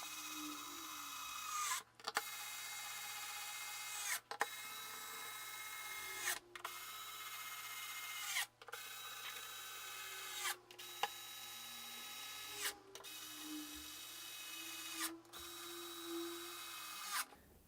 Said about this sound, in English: So I can grab my screwdriver, make sure it's tightening